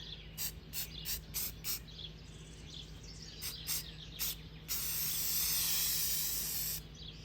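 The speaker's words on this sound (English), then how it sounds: "Spray it from all angles." Aerosol spray paint hisses from a can in short repeated bursts, then one long continuous spray, close and fairly loud over a faint steady hum while upcycled garden finds are painted.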